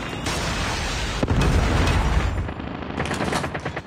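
A Predator missile strike in Call of Duty lands as a loud explosion with a sharp boom partway through, then rumbling debris and scattered gunfire bursts over ongoing combat noise.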